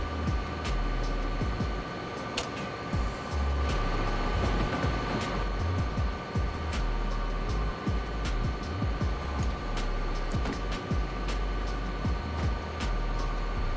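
A train runs in the video game DayZ, a steady low rumble and hum of the engine and wheels with scattered clicks and knocks, moderately loud and continuous, with no talk.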